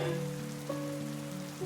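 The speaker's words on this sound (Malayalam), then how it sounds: "എത്ര ശക്തമായ മഴയാണ് വരുന്നതെന്ന് അങ്ങ് കാണുന്നില്ലേ?" Heavy rain falls in a cartoon, a soft, constant patter under sustained tonal music for under two seconds, with no voices.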